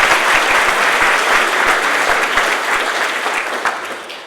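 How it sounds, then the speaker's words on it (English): A loud, dense wave of audience applause at a college colleague awards ceremony fills the room steadily from start to finish, with many hands clapping at once and no speech. "Let's give a round of applause to Paul for doing a great job this morning."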